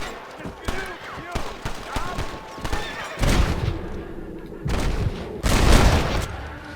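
Gunfire from the Western video game Red Dead Redemption, several loud shots and bursts crackling over a busy game soundscape, with voices talking in between.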